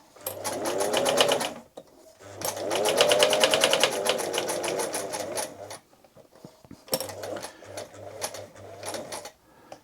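A Singer 247 sewing machine runs and stitches in three close bursts of fast, even mechanical clatter separated by short pauses, with a low motor hum under the needle's rapid ticking and a few clunks between runs.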